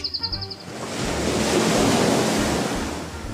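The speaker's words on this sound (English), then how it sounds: "Waves crashing on a beach." Ocean waves crash onto a beach, a broad rushing roar that swells and then washes out steadily, heard nearby and fairly loud.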